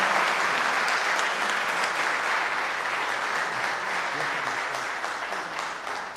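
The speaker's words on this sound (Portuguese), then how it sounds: "Vamos dar uma salva de palmas para esta família linda." A church congregation applauds a family being welcomed as new members, a dense, steady wash of clapping that holds loud throughout and fades slightly near the end.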